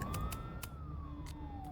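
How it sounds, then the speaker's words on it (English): A video-game siren from an observatory in Life is Strange wails, rising and then slowly falling in pitch, steady and moderately loud, with a few sharp bursts of noise cutting in. "There are sirens coming from the observatory."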